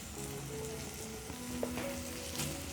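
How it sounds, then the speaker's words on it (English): Sliced ripe bananas fry in bubbling sugar in a pan over a medium-low flame, giving a steady, close sizzle with a few soft clinks and shifts from the pan. "Once your sugar is bubbling up, I'm going to place my sliced bananas in the pan."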